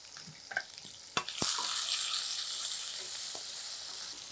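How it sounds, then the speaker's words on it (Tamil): Chopped onion hits hot oil in a pan for rava oats kichadi, a few light clinks first, then a sudden loud sizzle that swells and settles into a steady hiss. "இப்போ இதோட நம்ம கட் பண்ணி வச்சுருக்கிற வெங்காயத்தை முதல்ல சேர்த்துக்கலாம்"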